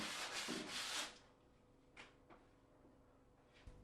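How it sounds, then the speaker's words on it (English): Glass paper rubs along the planed edge of a wooden door in about a second of dense, close scratchy strokes, followed by near silence with a couple of faint taps. "Now rub the planed edge down with a medium-grade glass paper."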